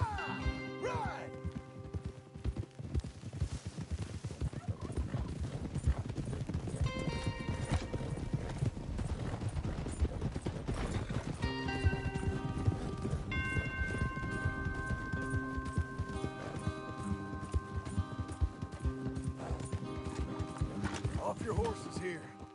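Horses gallop in a PS4 video game, with continuous hoofbeat clip-clop and an occasional whinny, over a layered musical score and game sound effects, while characters talk.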